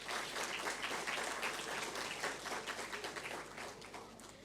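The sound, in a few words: audience applause for Maldivian dancers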